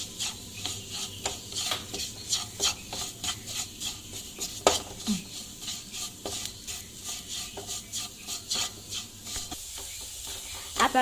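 Masala for a cauliflower and potato curry is stirred and fried in a pan: a steady sizzle with rhythmic scraping of a spoon against the pan, continuous and close, with no talk.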